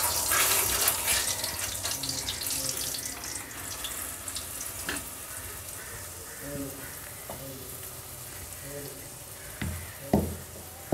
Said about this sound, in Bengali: বাকিগুলো ভাজছি।